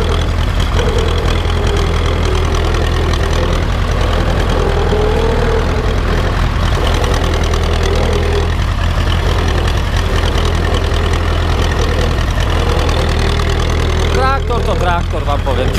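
An Ursus tractor rumbling over rough, pitted ground on a drained marsh, its engine a loud, constant low knocking drone close by, with a brief rattling clatter near the end.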